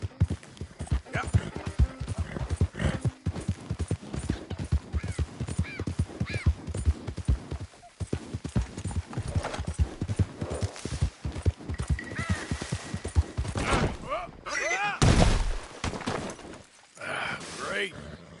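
Horse hooves clip-clop steadily along in the Western game Red Dead Redemption 2, a rhythmic walking beat under frequent conversational voices, with a horse's snort or whinny near the end.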